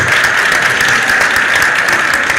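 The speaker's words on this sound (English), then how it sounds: "Please give them a round of applause." Steady, loud applause from an audience at a climate conference event, dense and continuous clapping throughout.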